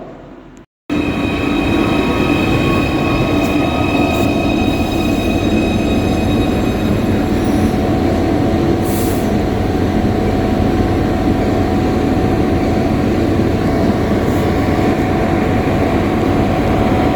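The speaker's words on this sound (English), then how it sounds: "Train at the station." A train pulls into Rock Ferry station, a loud continuous rumble of wheels and carriages with faint high squeals, starting abruptly after a brief quieter moment and carrying on steadily with no talk.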